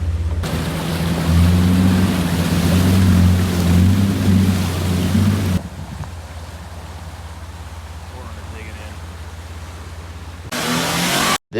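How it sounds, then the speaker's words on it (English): A Jeep TJ pushes through a trail water crossing, its engine rumbling loudly with rushing, splashing water for several seconds before the sound drops to a quieter wash. "we had a few proper water crossings that were really, really beautiful"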